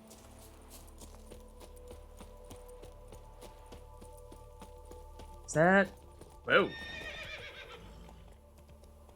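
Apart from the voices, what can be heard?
horses galloping and whinnying in video game The Witcher 3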